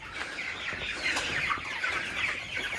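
Broiler chickens clucking in crates, a dense continuous chorus of close clucks and soft calls from many birds at once.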